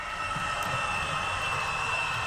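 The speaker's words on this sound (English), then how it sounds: "Here we see a container train entering the phase 2" Model railroad container train rolling on a layout, a steady low rumble with continuous mechanical whine, moderately near and unbroken, no voices.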